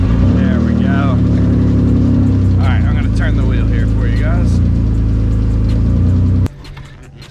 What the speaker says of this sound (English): So I'm going to start the car real quick here.